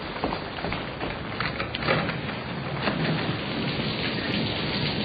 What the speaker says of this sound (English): I can't hear a thing with this storm going on